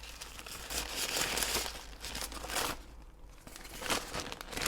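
Plastic bag packaging from a Sunbeam Pro Steam travel iron crinkles and rustles close up in irregular bursts, with a brief quieter pause partway through.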